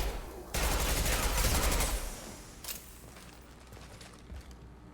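Burst of gunfire from the video game Mass Effect 2, a loud dense volley lasting about a second and a half, then a single sharp shot and faint rattling mechanisms trailing off.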